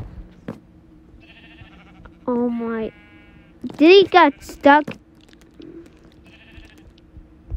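Minecraft sheep bleat several times, a wavering call followed by two louder close bleats, with a person talking briefly in between.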